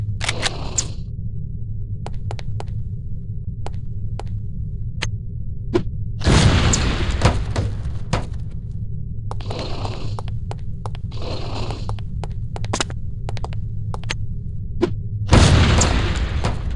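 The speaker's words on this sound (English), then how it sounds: "These relatively inconspicuous-looking lipsticks are actually powerful explosive devices that detonate on impact." Lipstick explosives detonate on impact in the video game No One Lives Forever. Two loud booming blasts land several seconds apart, each with a rumbling tail, over a steady low hum and scattered sharp clicks.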